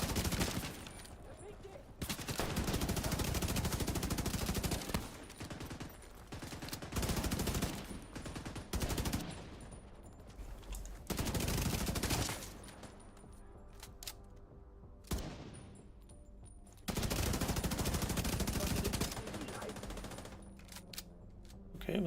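Heavy gunfire in the video game Division 2 bursts repeatedly in loud clusters, sharp sniper cracks and rapid volleys separated by brief quieter gaps.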